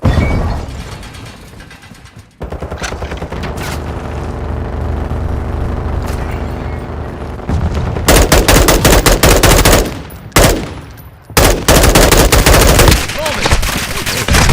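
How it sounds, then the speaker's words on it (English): Rapid automatic gunfire and bursts of shots from a Call of Duty match, loud and dense with mechanical clicks and reload sounds, briefly dropping out near the middle before heavy firing resumes. "Taking enemy fire!"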